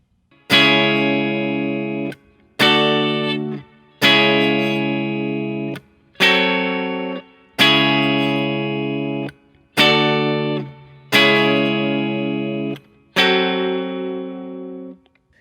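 Distorted electric guitar chords are struck one at a time, eight single strums each left ringing for about a second before cutting off, with the last fading out.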